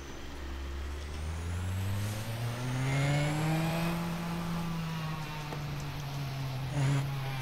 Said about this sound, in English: The engine sound is still pretty good.